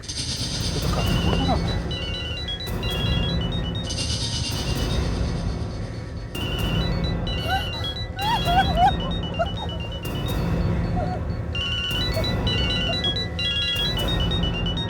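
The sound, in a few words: mobile phone ringing inside a bag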